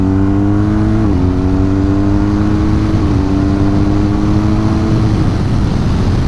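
A BMW R1250GS motorcycle engine accelerating on a road test ride: a loud, steady engine drone that climbs in pitch through gear changes, with no talking.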